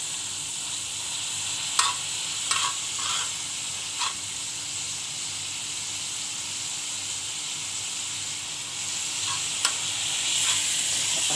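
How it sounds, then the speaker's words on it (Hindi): Milk reduces into khoya in a pan while a spoon keeps stirring, a steady close hissing sizzle broken by several sharp spoon clinks and scrapes against the pan, no voices. "चम्मच आपने हिलाते रहना, चम्मच नहीं छोड़ना वरना वो नीचे से जल जाएगा।"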